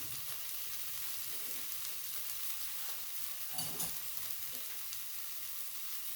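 Spices and lentil curry sautéing in a pan for a vegetarian soybean dhokar dalna, a continuous close sizzle with occasional scraping stirs and no voices.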